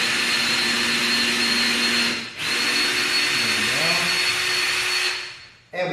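A power drill bores mounting holes into a wall stud for an extension cord reel bracket in a garage, running as one loud, steady whine that dips once briefly, then winds down near the end.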